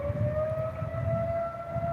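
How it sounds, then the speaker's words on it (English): An outdoor fire siren wails in a long, steady rising tone, holding loud and continuous from start to end with no voices. "As you can hear, got the fire siren going on."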